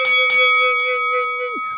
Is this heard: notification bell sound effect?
yes